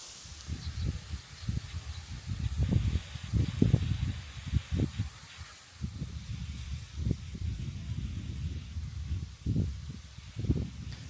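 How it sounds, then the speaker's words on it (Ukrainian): Strong wind buffets the microphone in gusty, rumbling bursts with a hissing, rustling wash throughout, while fishing on the Dniester River in autumn. "Щось вітер такий здійнявся досить сильний"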